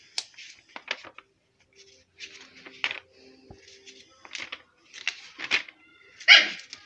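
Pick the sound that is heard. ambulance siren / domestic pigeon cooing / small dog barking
small dog barking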